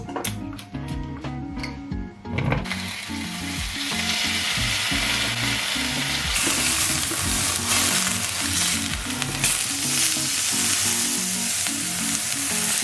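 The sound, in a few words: bacon frying and sizzling in a pan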